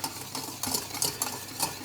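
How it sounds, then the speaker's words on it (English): Dry chocolate fudge cake ingredients, cocoa powder among them, being stirred together in a bowl, making a close, steady scraping and rustling stir with light utensil clinks, and no talk. "I'm just going to move that around in there, just mix it all together."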